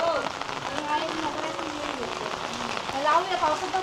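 Heavy monsoon rain falls in a Konkan village, a dense, steady patter on surfaces close by, filling the clip without a break while a voice talks faintly beneath it.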